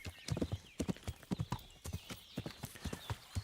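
A horse's hooves clip-clop in a quick, uneven galloping rhythm in Kingdom Come: Deliverance, with the hoofbeats close, crisp and clearly audible.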